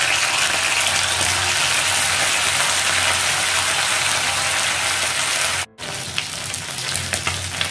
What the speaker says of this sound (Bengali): এবার মাছটা একটু কড়াইতে ভেজে নিচ্ছি